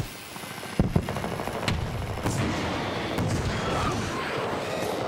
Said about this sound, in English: pushed me into the gunfire